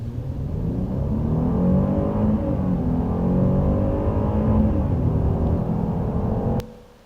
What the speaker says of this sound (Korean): 이 소리에다가 호랑이 소리를 덮여 씌운 소리를 한번 들어보시겠습니다